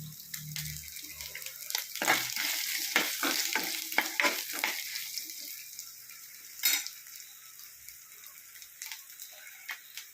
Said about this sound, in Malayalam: എന്നിട്ട് നമുക്ക് തേങ്ങ വറുത്തെടുക്കാം